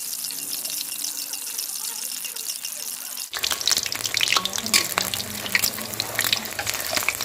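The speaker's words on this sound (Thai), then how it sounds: "น้ำมันร้อนแล้วก็ใส่ไข่ไปครับ" An egg drops into hot oil in a wok for Thai beef stir-fry with curry paste, and a loud, steady crackling sizzle bursts in midway after a quiet start, then continues close and busy to the end.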